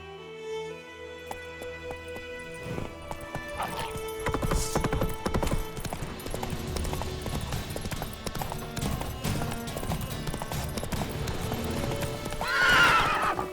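Roach, a horse in The Witcher 3: Wild Hunt, gallops with steady, rapid clip-clopping hooves throughout, and a loud neigh rises near the end.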